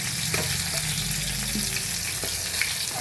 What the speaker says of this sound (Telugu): ఇప్పుడు ఇవి వేగాయి.